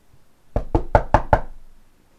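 Five quick, evenly spaced knocks on a door on Halloween night, close and loud, with a brief ringing decay after the last rap.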